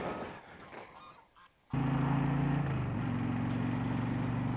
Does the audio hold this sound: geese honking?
yes